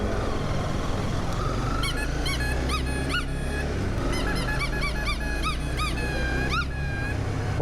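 A dog's high yelps and squeaks repeat over a steady loud Honda motorcycle engine rumble, with a brief honk-like tone near the end.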